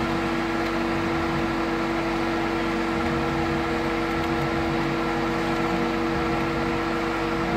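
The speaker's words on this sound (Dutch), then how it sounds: "Dit is een frequentiegestuurde pomp van Starrite. Dus die heeft even nodig om in gang te schieten." Starrite variable-speed pool pump running during a pool filter backwash, a steady mechanical hum with constant motor tones and hiss, close and unchanging throughout.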